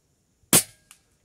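A single sharp shot from a PCP M60 air rifle firing 25-grain slugs at a 60-metre target, a loud close crack followed by a faint, brief impact tick a moment later.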